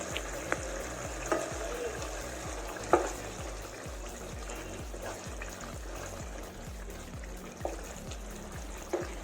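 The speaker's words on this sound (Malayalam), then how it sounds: "എന്നിട്ട് ഇത് നല്ല രീതിയിലൊന്ന് മിക്സ് ചെയ്ത് കൊടുക്കാം." Pork vindaloo frying in a pan as jaggery is mixed in, a continuous close sizzle with a steady rhythm of stirring strokes and occasional sharper clinks of the spoon, no one talking.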